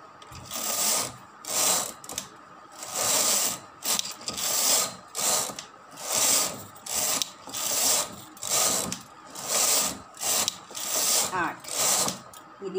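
Knitting machine carriage pushed back and forth across the needle bed, about eight rhythmic rasping, clattering passes roughly every second and a half, loud and close, with brief quiet gaps between strokes.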